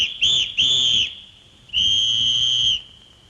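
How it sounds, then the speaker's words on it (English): A shrill whistle is blown three times: two short quick blasts, then one longer sustained blast, loud and close. "Mr. Bustle put the whistle to his lips."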